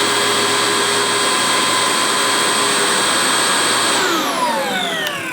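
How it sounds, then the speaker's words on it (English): A DeWalt backpack leaf blower of the landscape-professional type roars at full power with a steady, loud whine, then winds down near the end as its pitch falls. "So here's what this one sounds like. And it's more like a landscape professional blower."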